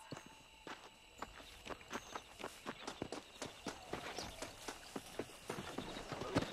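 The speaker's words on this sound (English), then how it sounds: "I'll show you how we ride around these parts" A horse gallops in the video game Red Dead Redemption, its hooves beating a steady, fast clip-clop rhythm that runs throughout, fairly close and quite even, with no voices over it.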